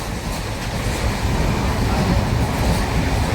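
Interior of a moving passenger train running almost empty on a Konkan route toward Rajapur, a loud continuous rumble and rattling roar with dense low clatter throughout, no voices.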